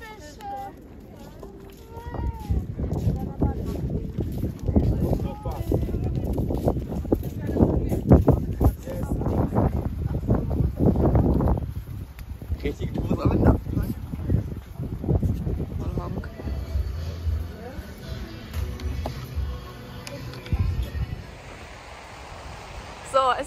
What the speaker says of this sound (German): Aber hier geht so ein Wind. Wahrscheinlich hört man es auch.